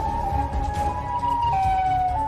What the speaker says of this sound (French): Quel est ce bruit? Je te l'ai dit. C'est comme une sirène?